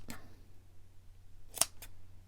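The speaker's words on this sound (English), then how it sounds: "these scissors are not sharp at the pointy bits anymore" Scissors snipping paper for a junk journal collage, two or three crisp, quick cuts close to the microphone against a quiet room hum, with a short pause between snips.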